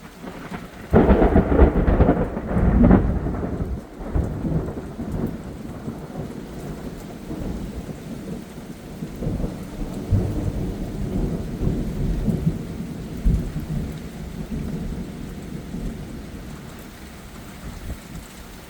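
A strong thunderstorm in Valley Stream, New York: deep rolling thunder booms loudly early on and rumbles again later, over a steady wash of heavy rain beating on surfaces throughout.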